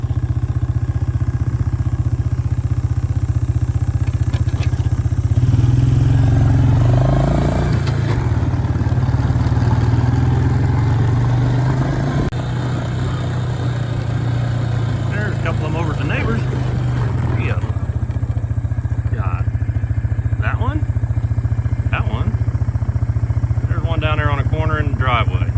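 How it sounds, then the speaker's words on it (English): A four-wheeler ATV engine idles steadily outdoors by a pond, powering a spray pump, a low continuous drone throughout with occasional clatter and someone talking over it. "I like to keep that four-wheeler running. It makes just a little more voltage, which makes the pump run just a little better"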